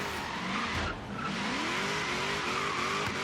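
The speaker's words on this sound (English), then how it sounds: "4th gear, and we're just hanging this burnout" A Chevy SS drift build holds a burnout in fourth gear in Forza Horizon 3, its tires squealing in one loud, sustained screech under a droning engine, with a brief dip partway through.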